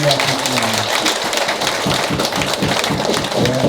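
A church congregation claps together in a continuous dense patter of hands, loud and close, with a voice briefly audible near the start.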